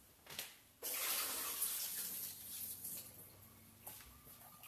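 Water drained from soaked rice noodles gushes out in a steady pour for several seconds after a short pause, loud and close, tapering slightly toward the end.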